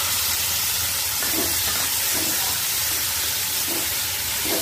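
Tomatoes dropped into hot oil with cumin and chillies for a fenugreek sabzi, a loud continuous sizzle and hiss with soft stirring scrapes recurring every second or so.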